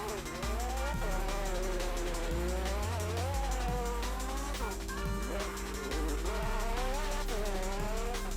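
A McLaren Senna drifting in a Roblox car game, its engine droning steadily with a rising and falling pitch under continuous tire squeal as it slides through corners, loud and close throughout.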